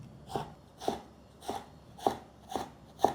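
A knife slices through a fresh mango into thin strips on a cutting board, six evenly spaced cuts landing about every half second, close and fairly quiet.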